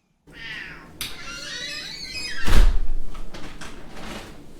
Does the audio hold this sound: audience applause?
no